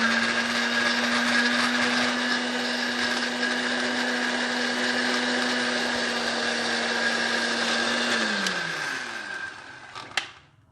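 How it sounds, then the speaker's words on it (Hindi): A blender blending tamarind chutney whirs loudly and steadily for about eight seconds, then winds down and stops, followed by a faint clatter. "ब्लेंडर को स्टार्ट कर देते हैं"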